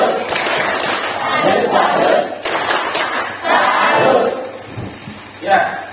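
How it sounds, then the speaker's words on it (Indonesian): A group of teachers performs a rhythmic patterned clap routine in a classroom setting, several bursts of claps and chanting voices mixed together, loud and close, with talking between the bursts. "Tepuk salut."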